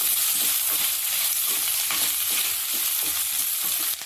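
Curry leaves hit hot oil in a pan while making egg chilli fry with onion, setting off a loud, continuous crackling sizzle alongside stirring, with no voices over it.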